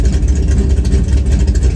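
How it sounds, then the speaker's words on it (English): A race car engine rumbles past in the pits, a loud, close, deep throbbing drone that holds steady through the moment. "Oh, that's like a real race car."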